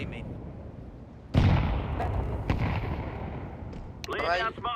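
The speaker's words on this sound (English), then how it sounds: "Deploying flashbang." A flashbang or grenade in a video game detonates with a sudden loud boom that rolls off into a rumbling decay, followed by a smaller thump and brief voices near the end.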